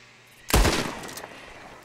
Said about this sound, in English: can we shoot the ropes down?